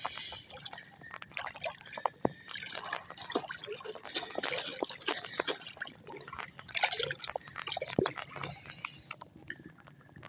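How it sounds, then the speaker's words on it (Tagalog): Heavy rain falling outdoors in a rural field, a dense continuous patter and splashing with dripping water throughout, close and steady. "Umuulan na po."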